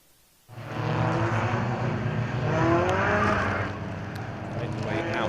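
Race cars on the Donington Park circuit run down the back straight, their engines a steady loud drone that swells and eases slightly as the field passes, with a commentator's voice over it.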